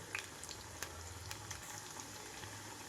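Sweet corn pakodas frying in hot oil over a medium flame, a steady quiet bubbling sizzle with faint crackles and small pops, low and continuous throughout.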